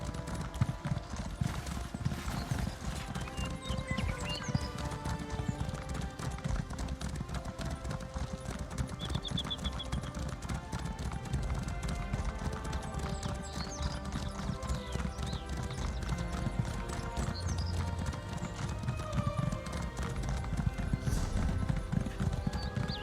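Steady, rhythmic clip-clop of a horse's hooves in the video game ESO: High Isle, close and continuous for the whole stretch, with occasional neighs and game music underneath.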